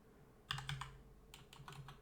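Quiet bursts of typing on a computer keyboard, a few quick keystroke clusters with short pauses between, close by in a room while coding a Python chatbot.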